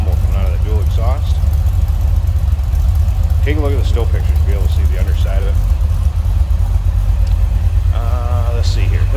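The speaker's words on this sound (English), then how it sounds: "nice rumble coming out of the dual exhaust." A 1973 Chevrolet Corvette convertible engine idles with a steady low rumble through its dual exhaust, running continuously close by while someone talks over it.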